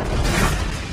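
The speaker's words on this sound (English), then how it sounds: "Friendly airstrike on the way!" An airstrike explodes in Call of Duty 4: Modern Warfare, a loud, sustained boom filling the whole second with deep rumble and dense broadband blast noise.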